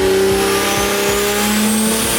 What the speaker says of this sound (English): The anti-surge housing kind of helps it make a nice little flutter too